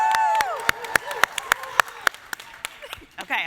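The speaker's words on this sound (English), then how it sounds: "Can you clap your hands? Can you scream something joyfully?" An audience at an opening-remarks event claps in a burst of sharp, scattered hand claps mixed with crowd voices, with no clear screaming standing out.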